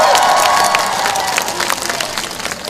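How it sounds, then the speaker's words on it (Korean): A large outdoor crowd at a Korean presidential election campaign rally in Uijeongbu claps and cheers loudly, a thick, continuous roar of applause with shouts mixed in, gradually easing a little while staying strong. "여러분 맞다고 생각하시면 박수 한번 부탁드리겠습니다"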